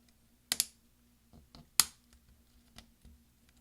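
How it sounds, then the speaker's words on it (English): The number one key of an Early 2011 13-inch MacBook Pro (MC700) is pressed down onto its retainer clips, giving two sharp, close plastic snaps followed by a few softer taps and clicks in a quiet room. "when you push down, you're trying to hear it snap"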